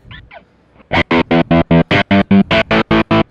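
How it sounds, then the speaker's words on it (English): A Kemper slicer effect chops a distorted, modern guitar tone into a rapid run of evenly spaced square-wave bursts that start after a brief quiet lead-in and stay loud and steady to the end. "So let's move on to the slicer."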